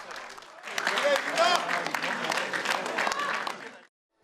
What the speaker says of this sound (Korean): 박수치며 환호하는 민주당